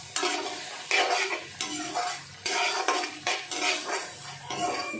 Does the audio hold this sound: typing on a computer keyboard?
no